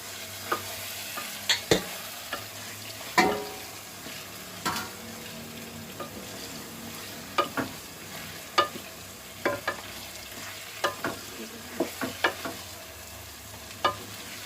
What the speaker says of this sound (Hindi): चिकन डालने के बाद हमें इसे अच्छे से हिलाएंगे ताकि सारा मसाला चिकन में मिक्स हो जाए।